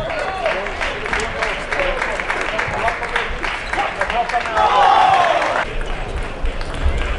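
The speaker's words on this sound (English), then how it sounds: "Swedish crowd here, full on a Friday evening, supporting Mattias Karlsson." A packed Swedish crowd at the 2016 Swedish Open table tennis tournament on a Friday evening applauds and cheers, a continuous roar of clapping that swells near the end, with voices mixed in.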